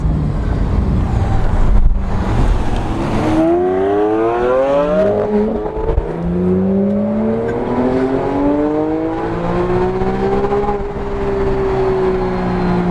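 Car engine revving hard through rising, climbing pitch sweeps with gear changes, loud and buffeted by wind noise as it keeps pulling.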